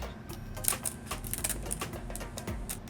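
Kitchen shears snip down the backs of lobster tails in quick, close crunchy clicks and cracks, a rapid irregular series of sharp shell-cutting sounds with no talking.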